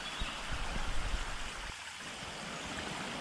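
Water from the Tharkot waterfall flows as a stream into a lake near Pithoragarh, a steady, soft rushing wash heard alone, with a few faint splashes early on.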